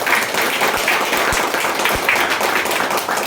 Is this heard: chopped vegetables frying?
no